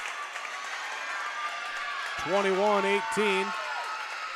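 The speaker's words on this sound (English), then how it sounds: "Big cheer from that student section" A student section cheers loudly at a Class B high school volleyball match in a gym, a sustained crowd roar while an announcer talks over it.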